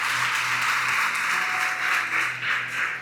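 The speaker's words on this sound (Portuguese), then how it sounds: "dá um aplauso ao Senhor Jesus" A church congregation applauds steadily for a few seconds, a dense wash of many hands clapping together at moderate volume with no speech over it.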